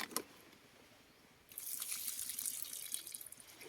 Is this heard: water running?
yes